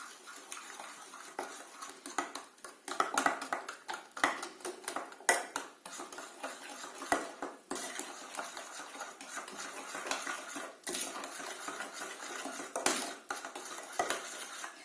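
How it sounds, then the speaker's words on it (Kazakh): A spoon clinking against a bowl while two eggs are mixed together, giving a quick, irregular run of close metallic taps and scrapes, with no talking. "2 жұмыртқаны бірден салып, қасықпен араластырып саламын."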